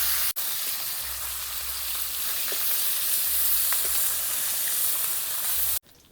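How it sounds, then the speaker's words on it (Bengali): Tel koi, yellow koi fish frying in mustard oil, gives a steady, loud broadband sizzle that continues unbroken for several seconds with a few faint clicks, then cuts off sharply near the end. "আমাদের মাছগুলো লাল লাল করে ভাজা হয়ে গেছে"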